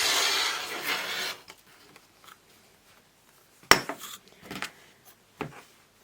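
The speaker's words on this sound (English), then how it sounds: "So using this line across here as to square it up, I'm going to just trim off one edge." A quilt piece is trimmed on a cutting board, a short scraping cut followed by a few light, crisp taps and slides of a ruler and cutter, close and quiet with no talk.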